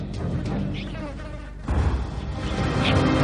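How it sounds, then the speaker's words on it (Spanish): Flies buzzing around overripe, fermenting fruit and rotting meat in an abandoned supermarket, a steady insect drone with wing whines drifting near and far, slightly louder in the second half. "El olor de la fermentación de la fruta demasiado madura atrae a las moscas de la fruta."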